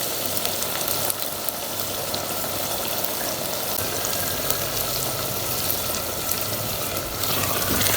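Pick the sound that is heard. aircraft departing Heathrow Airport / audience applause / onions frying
onions frying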